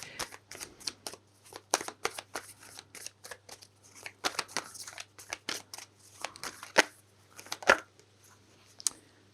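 Animal Spirit oracle cards are shuffled by hand, a close series of quick papery riffles and slaps in irregular bursts, with no talking.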